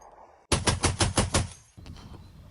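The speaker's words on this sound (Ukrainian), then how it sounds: "Батько і сином по черзі працювали із крупнокаліберного американського кулемета Браунінг" A heavy American Browning machine gun fires a rapid burst of about six loud, close shots, then stops, leaving a rumbling echo and background noise.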